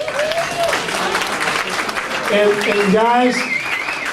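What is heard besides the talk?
audience applause at meetup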